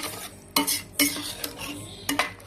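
A spoon scrapes and clinks against a pan as a cooked rice mixture is stirred, with sharp metallic knocks at irregular intervals and a soft sizzle underneath.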